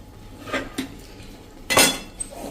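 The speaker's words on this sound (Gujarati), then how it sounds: "હવે આને આપણે થોડીક વાર ગોળને ચલાવી લઈએ, આ રીતે મિક્સ કરી લઈએ." Jaggery chutney with raw mango is stirred in a pan over a low flame, and a metal spoon scrapes and clinks against the pan in a few short knocks, the loudest near the end.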